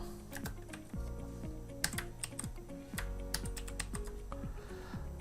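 Rapid clattering keystrokes on a computer keyboard as C# code is typed, uneven bursts of close, crisp clicks with brief pauses, no talking.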